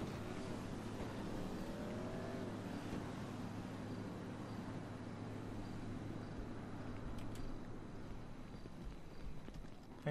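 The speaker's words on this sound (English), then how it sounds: "I hear a car." A car drives in the GTA 5 video game with a low, steady engine rumble and a brief rising whine early on, faint and continuous without talk.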